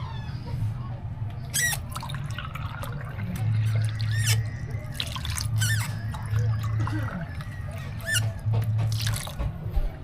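Water poured from glasses onto grated coconut in a kitchen for squeezing coconut milk, soft splashing and dripping under ongoing talk.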